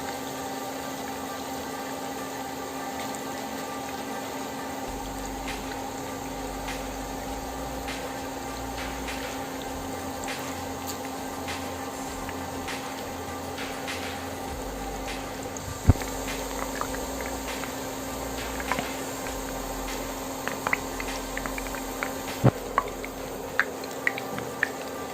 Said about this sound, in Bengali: বেরেস্তাগুলো অবশ্যই একটু নাড়াচাড়া করে ভেজে নেবেন, ঘন ঘন নাড়াচাড়া করতে হবে